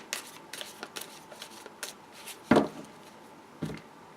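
A Tarot Illuminati card deck is shuffled by hand, giving a quiet run of soft riffles and taps followed by two sharper bursts as the cards are bridged and squared, with no talking.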